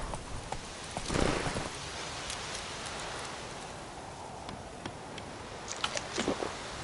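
Roach, a horse in The Witcher 3, gallops in a fast steady clip-clop of hooves at mid distance over a constant hiss like rain, with no talking.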